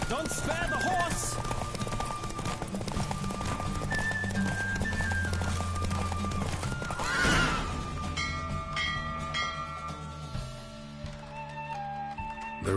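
Racing horse in The Witcher 3 gallops with rapid clip-clop hoofbeats and neighs before the pace eases, under game music with bell-like tones and occasional speech.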